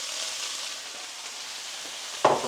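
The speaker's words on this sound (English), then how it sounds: "So you're supposed to fry this off until it's lightly golden" Pork and sliced peppers fry in a hot pan with a soft, steady sizzle, and a sharper clatter comes near the end as the food is stirred or tossed.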